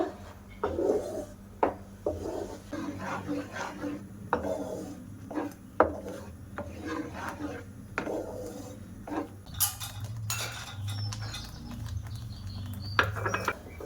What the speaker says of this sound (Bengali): এবার আমের পাল্পটা ভালো করে জাল করে নেব